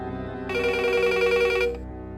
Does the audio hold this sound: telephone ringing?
yes